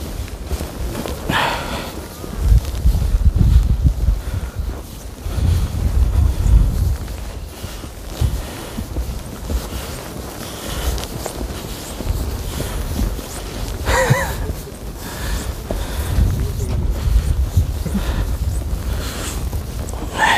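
Strong wind buffets a microphone outdoors in light snow at Noboribetsu, Japan, producing a continuous rough low rumble with heavier gusts surging throughout, alongside faint movement noises.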